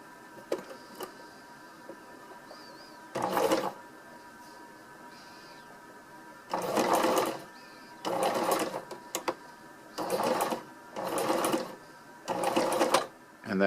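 A sewing machine stitches the corner of a DIY hex tarp in about seven short bursts, each a loud, close whir separated by quiet pauses.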